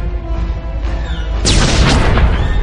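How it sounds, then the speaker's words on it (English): An Imperial starship is struck by prison turret fire above Belsavis in Star Wars: The Old Republic. A low rumbling hum gives way to a loud, heavy boom and crackling blast that fills the rest of the moment. "the Imperial ship has come under fire from the prison turrets and is going down"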